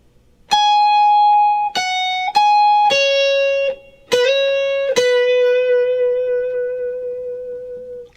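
A clean electric guitar plays the opening phrase of a song's solo high on the neck: a handful of crisp picked notes with a bend, ending on one long sustained note, heard alone.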